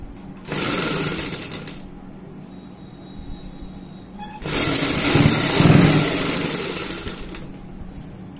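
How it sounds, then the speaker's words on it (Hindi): A sewing machine stitches piping onto a neckline design, running in two steady motor bursts with a brief pause between them, close and fairly loud with no talk. "यहाँ पे रखेंगे पाइपिंग, बिल्कुल नोक पे रखनी है आपने, और यहाँ पे सिलाई लगा देनी है इस प्रकार से।"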